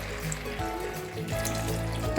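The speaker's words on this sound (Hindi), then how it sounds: "अब हम पानी ऐड करेंगे" About half a cup of water poured into a pan of achari aloo baingan, a steady splashing and trickling liquid sound heard up close with no speech.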